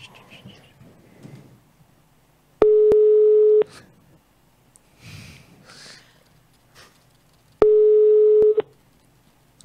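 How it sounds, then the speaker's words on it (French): A Skype call's outgoing ringing tone sounds twice, each a loud steady one-second beep separated by several seconds, with quiet breathing, sniffs and murmured whispering in between. "Attends, ça sonne."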